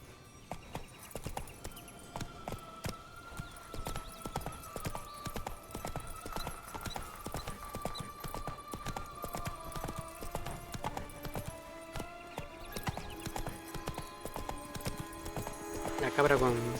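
Roach, the horse in The Witcher 3, galloping: rapid, continuous hoof clip-clops in a steady rhythm, close and fairly loud, with a voice speaking at times over the hoofbeats.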